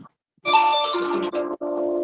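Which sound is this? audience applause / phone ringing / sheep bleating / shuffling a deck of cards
phone ringing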